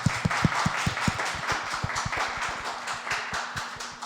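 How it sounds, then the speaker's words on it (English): A small audience at an alumni podcast discussion panel claps for the panelists, a few close, distinct handclaps over softer scattered clapping that tapers off, with a steady low hum underneath. "I want to give the panelists a round of applause as well."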